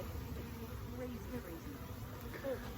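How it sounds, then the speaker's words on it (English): Honeybee swarm buzzing all around, a dense, steady, fairly faint hum of many wings with individual bees passing close now and then. "So I'm in the middle of a swarm right now."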